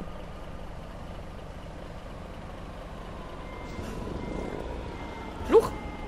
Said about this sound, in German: So muss ein LKW klingen.